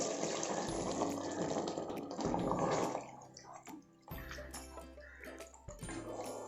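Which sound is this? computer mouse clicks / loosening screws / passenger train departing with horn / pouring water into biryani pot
pouring water into biryani pot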